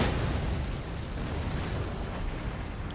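Artillery cannons firing during a siege assault in Empire: Total War, a dense, continuous rumble of booms and bursts that stays loud and unbroken throughout, with no talk over it.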